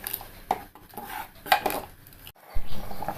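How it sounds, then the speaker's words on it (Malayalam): A ladle scrapes and clinks against a cooking pot while erissery curry is stirred, with several sharp metallic knocks between softer scraping and bubbling, close and fairly quiet. "ഇളക്കി കൊടുക്കണം, അല്ലെങ്കിൽ അടിക്ക് പിടിക്കും"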